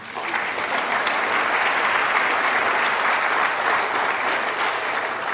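Loud, sustained clapping from a hall audience at a university inaugural lecture in industrial engineering, a thick, uniform wash of many hands that holds at full strength from start to finish.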